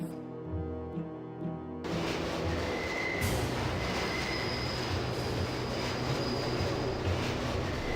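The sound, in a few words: train departing, from the video game Deus Ex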